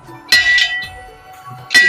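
Two bright metallic strikes of a temple bell in a Mahakali shrine doorway ring out about a second and a half apart, each loud and sharp with a brief ringing tail, and faint background murmur between them.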